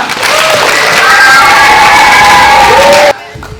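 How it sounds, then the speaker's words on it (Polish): Children at a summer judo camp in Mikoszewo cheer, shout and clap loudly for their coach, a roaring crowd burst that stays strong for about three seconds and then cuts off abruptly. "a na tą chwilę jeszcze wielkie brawa dla trenera Pawła."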